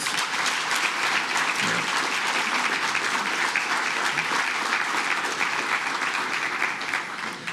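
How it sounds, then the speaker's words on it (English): Audience at the Deputy Governor's Awards in the Cayman Islands giving the governor a round of applause, loud continuous clapping from a large crowd that holds steady throughout. "Let us give our governor a round of applause."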